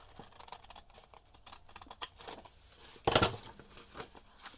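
Scissors snip a T-shaped cut into paper for a zine: soft, scattered crisp snips and paper rustles, ending in one sharper, louder cut near the close, with no talking.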